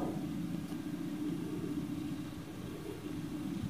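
A car drives through a residential neighbourhood, its engine giving a steady low rumble with road noise that swells slightly and eases, close and continuous, with no talking.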